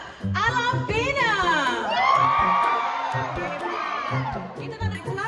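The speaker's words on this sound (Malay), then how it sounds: "kita nak dengar sorakan yang lagi kuat" Graduates at a convocation ceremony cheering loudly, a roaring crowd of whoops, yells and shouts rising and falling in sustained waves.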